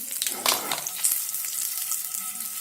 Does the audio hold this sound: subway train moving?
no